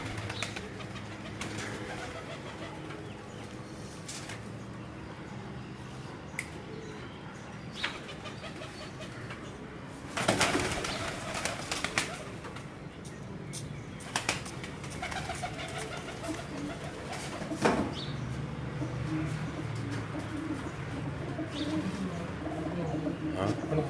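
Pigeons coo steadily against a continuous backdrop, with a few sharp bursts that could be wingbeats as birds take off; faint voices are heard intermittently.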